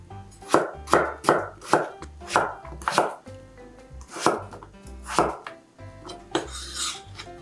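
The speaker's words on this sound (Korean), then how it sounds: "감자는 먹기 좋은 크기로 썰어주세요." A knife chops potatoes into bite-sized pieces on a cutting board, steady close thuds landing about twice a second, with no voices.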